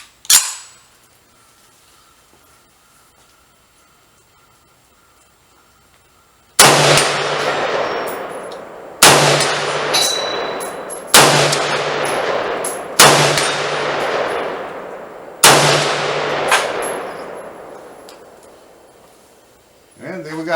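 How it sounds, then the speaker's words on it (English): Five sharp rifle shots from a Ruger Mini 14 in .223/5.56, each a loud crack with a ringing tail, spaced a few seconds apart outdoors, after a quiet stretch with faint background. "We're going to take another 5 shots at that plate steel and see if we can't hit it."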